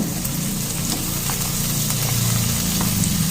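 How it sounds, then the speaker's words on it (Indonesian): Meatballs stir-fry in a pan for a stir-fried green bean dish with torch ginger flower, a dense continuous sizzle close up with faint stirring scrapes throughout. "Biar dia ditumis bersama dengan bakso dulu"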